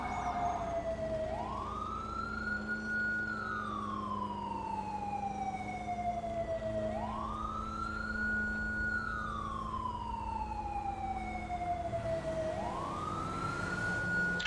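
A police car siren wails continuously, its pitch rising sharply and then gliding slowly back down in a repeating cycle about every five to six seconds, loud and steady over a low vehicle rumble.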